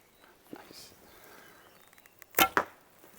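An arrow loosed from a Milan horsebow gives a sharp, close snap and whoosh near the end, followed by a second quick crack, after quiet rustling and soft movement.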